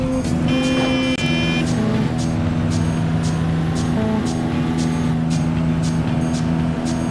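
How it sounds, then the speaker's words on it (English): In the video game Driver 2, a car engine drones continuously and loudly with a steady pitch, overlaid by repeated sharp ticking and a few short tonal blips, with no talking. "I love that it has like the same engine sound as the pickup truck"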